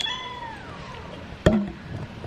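A cat gives a long, drawn-out whining meow that slides downward in pitch, followed by a sudden short knock or thump, close by and otherwise quiet.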